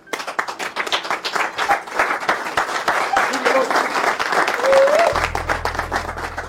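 Lively crowd applause welcoming a man's family, his two wives and children, onto a stage at an evening event, dense continuous clapping with voices talking underneath.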